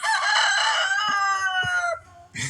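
A rooster crows loudly nearby, one long drawn-out call, followed by a brief cluck at the end.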